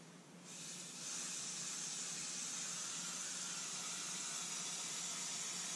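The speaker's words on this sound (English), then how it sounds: "so that we can spray some of this on there pretty heavily" Oil sprays heavily from a can onto a new leather gun belt in a garage, a faint, steady hiss that starts after a brief pause and runs unbroken to the end.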